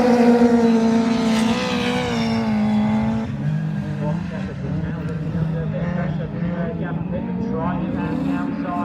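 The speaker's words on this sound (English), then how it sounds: "trying around the outside, not quite, but is Gavin going to do it on this particular top corner? Goes really wide" Autograss race cars roar around a dirt track during a finals meeting, engines revving loud and continuous with shifting pitch as they pass through the corners, while a commentator talks throughout.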